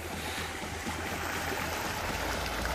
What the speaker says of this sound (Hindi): काली पाइप इसके अंदर से इसने लगा दिया, देखिए पानी इधर से निकल रहा है पूरा